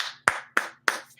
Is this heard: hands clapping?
yes